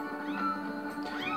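A cat meows in the video game The Legend of Zelda: Skyward Sword, a drawn-out, tonal meow that rises and falls, clear and alone.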